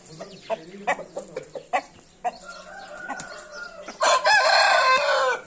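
A rooster on a Turkish farm crows loudly and close by at the end, after a run of short clucks and scattered calls from the flock, with other farm animals around.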